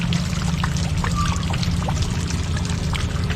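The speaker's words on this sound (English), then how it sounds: "All that water going out underneath there." Water rushes and pours out from under a diverted secondary waterfall on a rice farm, a steady loud splashing flow close by with no talk.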